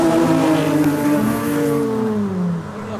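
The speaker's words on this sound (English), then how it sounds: "This is literally just a winter wonderland of awesome drifting." A Toyota Supra drifts on ice in Sweden. Its engine revs loud and close, with a rising and falling whine that eases off at the end.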